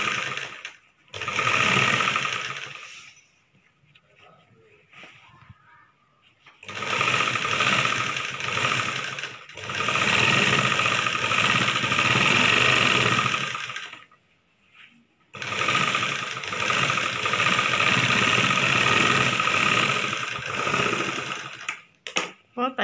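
A sewing machine stitches a chudidar top in several long, steady runs of rapid whirring, broken by short pauses between seams, close and fairly loud.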